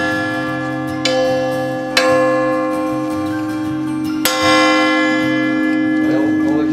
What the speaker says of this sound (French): c'est pour avoir un souvenir du son de la cloche